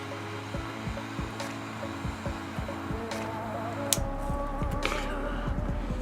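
A torch lighter's steady hissing flame lights a Nestor Reserve Maduro torpedo cigar, running continuously close by, with low rhythmic thumps and hum underneath.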